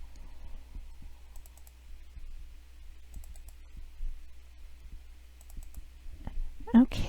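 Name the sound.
computer mouse double clicking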